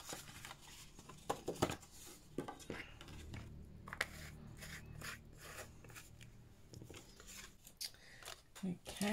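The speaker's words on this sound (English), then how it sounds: "I'm now just going to trim my banner" Scissors trimming a paper banner in papercraft card making, a series of crisp close snips and rustles of paper with brief soft speech in between.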